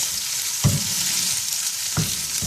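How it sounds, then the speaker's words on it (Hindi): Peshawari chapli kabab fries in hot oil, a steady bright sizzle with two sharper low bursts as the patty is eased in and handled with a spoon. "चमचे की मदद से आराम से आप इसको तेल में उतारें"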